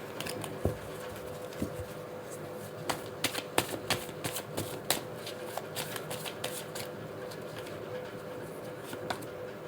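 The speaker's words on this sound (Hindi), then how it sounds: "एक कार्ड और लेंगे" Tarot cards being drawn and handled from a deck, a series of quick soft flicks and rustling snaps, scattered and fairly close, with a voice murmuring faintly in the background.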